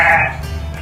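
A ewe bleats once, a short loud wavering cry close by on a Welsh farm during lambing, fading into quiet rustle.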